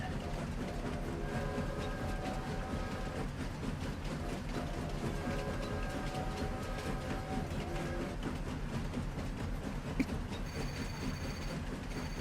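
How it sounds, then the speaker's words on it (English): Train running in Farming Simulator 25 on a Highlands map: a steady, even rumble of rolling wagons with faint rhythmic rail clatter and occasional tonal hums, continuous throughout at moderate level. "Here we go, look at me, I'm driving the train."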